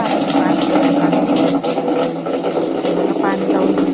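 Hot water from a geyser tap pours in a home bathroom, a steady, close, fairly loud rushing splash that continues without a break.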